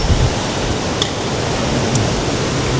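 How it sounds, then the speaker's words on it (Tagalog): Large ocean waves roll onto a beach, a loud, steady broadband roar of surf with no break, close and constant throughout. "Ang laki ng alon eh."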